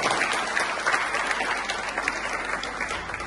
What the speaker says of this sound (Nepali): ताली बजाएर हामी उहाँहरूलाई धन्यवाद दिन्छौँ।